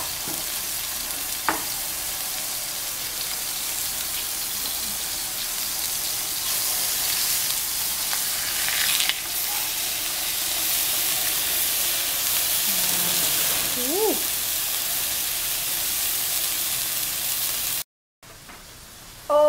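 Cream dory fillets frying in a little oil in a pan give a steady, close hiss of sizzling that runs almost unbroken, with a couple of faint clinks and a brief chirp of movement.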